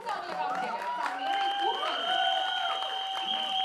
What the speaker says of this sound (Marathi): यासाठी प्लीज टाळ्या वाजवा